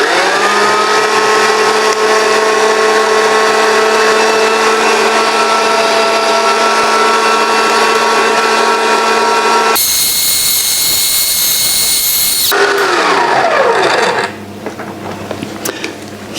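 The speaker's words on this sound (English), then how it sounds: "Now I'm going to cream slowly put the eggs in, just creaming them into this mix" An electric mixer creams eggs into a small Christmas cake mix, a loud, steady motor whine that shifts tone partway through, then drops and settles lower near the end, with no voices.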